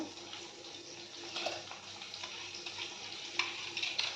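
A soft rushing, bubbling wash of water as rice is added to a boiling pot, with faint clinks and pours, quiet and close, without any voices.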